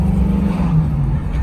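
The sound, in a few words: droney car exhaust while driving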